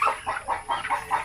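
A chicken clucks close by in a quick, even run of about six short, nasal clucks.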